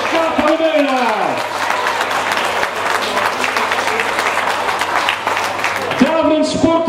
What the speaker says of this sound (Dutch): En uw applaus alsjeblieft voor Kaat van de Meulen.